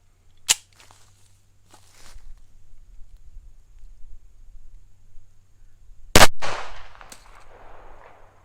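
Single 45 ACP 230-grain standard-velocity ball round fired from a Ruger SR 1911 pistol outdoors: one sharp, loud report with a brief trailing echo, preceded by a smaller click and low rumbling background.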